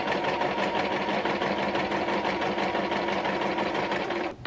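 A home sewing machine stitching fabric while a muumuu is cut down into a two-piece set, a steady rapid whirring motor hum with fast needle chatter running close and loud without pause, then cutting off right at the end.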